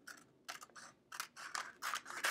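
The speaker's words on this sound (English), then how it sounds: "I need my paper scissors. Let's cut this out." Paper scissors cut out a paper template for a craft project, giving a series of close, crisp snipping strokes in quick bursts that grow louder toward the end.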